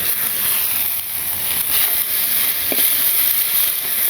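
Water lily stems fry in a pan, giving a steady, loud sizzle and hiss that holds without pause, with a brief stir or scrape partway through.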